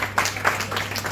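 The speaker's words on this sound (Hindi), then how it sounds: "आपकी तालियां लगातार यदि चलती भी रहती है तो कोई दिक्कत नहीं है" Brief scattered clapping from an audience at a college ceremony for Hindi Diwas and the inauguration of the Hindi literary council, Yeshwant College, Nanded, heard in a few quick bursts.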